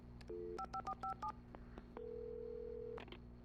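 A short run of electronic keypad tones beeps out a number in the video game Alan Wake Remastered, followed by a steady dial tone and a couple of faint clicks, no voices.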